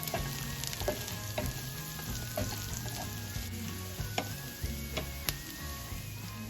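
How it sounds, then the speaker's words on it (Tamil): Green chili and curry leaves frying in a pan for a kurinja leaf varai, a steady close sizzle broken by several sharp scraping stirs and a light ticking, with no voices. "இப்போ இது எல்லாத்தையும் நல்லா வதக்கி எடுப்போம்."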